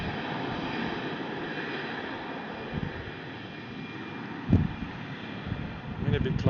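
A TAP Air Portugal Airbus A319 takes off at Brussels Airport, giving a steady, broad jet roar mixed with wind noise on the microphone, while a voice talks over it.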